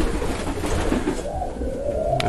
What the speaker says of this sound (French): les volières où il y a des pigeons en réserve, plus quelques jeunes de cette année aussi